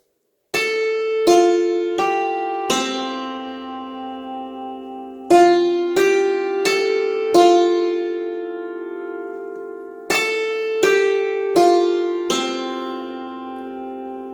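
A clock chime plays the slow Westminster quarter-hour melody of struck bell tones in groups of four, each note ringing and decaying, with no talking.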